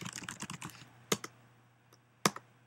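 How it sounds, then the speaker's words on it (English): Typing on a computer keyboard while adding text to a Google Docs document: a quick run of close key clicks, then a few isolated sharper keystrokes with quiet gaps between them. "and you start typing."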